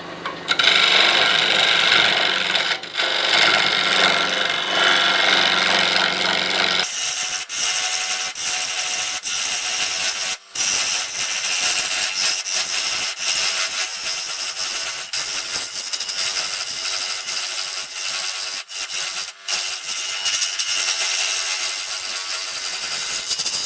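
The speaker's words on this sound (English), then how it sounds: "get this drilled out, then I'll start cutting this sucker down" A power tool drills and then cuts through a resin-filled piece with a loud, continuous grinding whine that shifts tone partway through, with brief dips where the tool catches or pauses.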